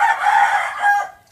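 A rooster crows once outdoors near rice fields, a loud close crow with a brief second swell before it fades out.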